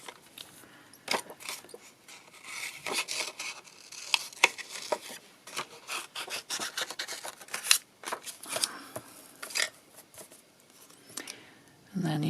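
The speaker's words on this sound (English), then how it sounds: "And then you just cut your little leaves out." Scissors snip out small paper leaves for a homemade Christmas pudding card, cutting in short, irregular runs of close, crisp clicks and rustles, with brief pauses between bursts.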